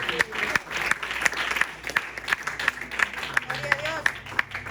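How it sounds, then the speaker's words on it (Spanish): A church congregation claps during a Spanish-language service, a rhythmic, fairly loud round of applause with sharp regular beats, while a preacher's voice and a faint tone carry on over it. "Dale un fuerte aplauso al Señor, hermano."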